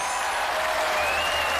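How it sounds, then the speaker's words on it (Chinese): A brief, steady patter of studio audience clapping on a Chinese TV job-seeking program, a uniform wash of applause that neither builds nor fades over its short span. "好，再次把掌声送给杨蓉"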